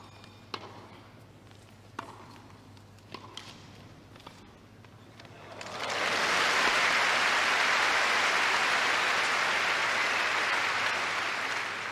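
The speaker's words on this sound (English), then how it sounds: "Nice round of applause for a very sweetly angled half volley" Wembley tennis crowd at the 1980 final bursts into applause after an angled half volley; after several seconds of quiet with a few isolated knocks, a loud, sustained wash of clapping rises and holds to the end.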